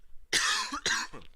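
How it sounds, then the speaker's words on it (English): A person coughs twice, sharp and close, short harsh bursts with a brief pause between them and no speech. "sorry, still coughing"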